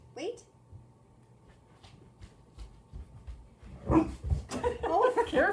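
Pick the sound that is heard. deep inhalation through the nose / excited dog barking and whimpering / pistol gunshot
excited dog barking and whimpering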